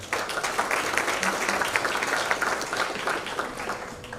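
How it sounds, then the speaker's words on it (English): Applause from the audience at a charity event for underprivileged children, a steady wash of many hands clapping at moderate volume throughout, with a possible faint voice mixed in. "give yourself a round of applause for being here"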